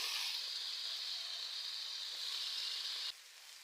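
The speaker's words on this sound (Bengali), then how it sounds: "কালো জলটা কেটে রাখা কাঁচা কলা দিয়ে দিচ্ছি আলুর উপর।" Slices of raw green banana dropped onto potatoes in a hot pan give a steady, close sizzle that holds evenly, then drops sharply softer near the end.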